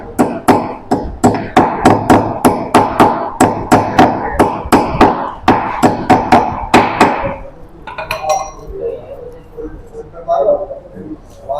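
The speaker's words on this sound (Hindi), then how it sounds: "इसके अंदर बेहद ही प्यार से आराम से चोट मारते मारते आपको ठोक देनी" Repeated close hammer blows drive a bearing cone into the handlebar head of a Montra electric auto rickshaw, a steady run of sharp metallic strikes for about seven seconds, then quieter clinks and handling.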